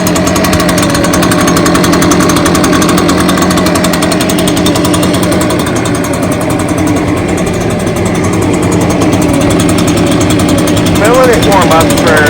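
A brand-new Echo PB580T backpack leaf blower idles steadily right after starting, a loud continuous engine drone filling the whole clip with no letup.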